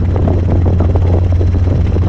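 A Robinson R22 helicopter flies a right downwind circuit at Hampton Roads, its engine and rotor making a loud, steady drone with a strong low hum heard from inside the cabin.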